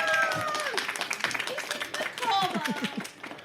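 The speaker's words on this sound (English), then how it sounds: "riding a thunderous wave of applause from the audience" Audience applause at a live Dickens Christmas fair, a bed of clapping heard beneath a presenter's lively talk, rising and thinning across the few seconds.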